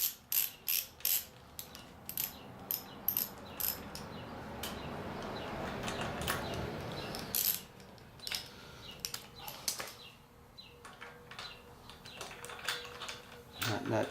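Up close, a ratchet wrench on the crank of a Vierbike Quadra Sprint quadricycle clicks in quick bursts as a nut is backed off, broken by a stretch of steady mechanical whirring partway through.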